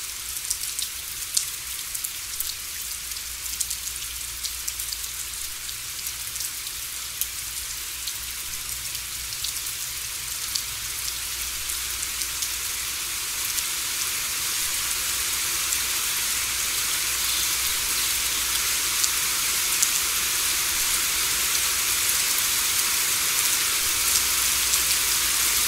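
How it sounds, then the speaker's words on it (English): Steady rain falls on a garden in Sarapiqui, Costa Rica, a dense even hiss of drops on foliage and surfaces, close and continuous without any voices. "The pleasant rain continues, and we explore more of the garden."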